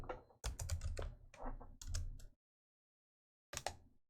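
Keys clatter in quick bursts on a computer keyboard while a spreadsheet formula is entered, ending with a press of the Enter key, then a pause of silence before another short burst of keystrokes.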